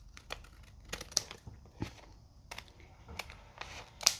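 Big scissors cut paper while making a journal, a series of faint, sharp snips and crinkles spaced irregularly, close up in a quiet room.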